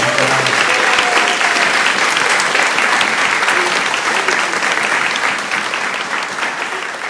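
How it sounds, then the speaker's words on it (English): Sustained, loud round of applause from a civic forum audience in Ballard for the moderator, Jean Godden, steady throughout and tapering slightly near the end. "I certainly think our moderator, Jean Godden, deserves a nice round of applause."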